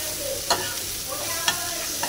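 Leafy greens fry in a pan on the stove with a steady soft sizzle, broken by two or three brief stirring clicks, heard close and alone.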